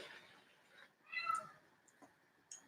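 A pet bird mimicking a cat's meow in a home kitchen during lasagna cooking, giving a faint, short meow-like call in the background among quiet room noise.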